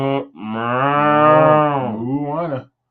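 A person imitates a cow with one long, loud, drawn-out "moo" lasting about two and a half seconds, close to the microphone, during a live Disney trivia show.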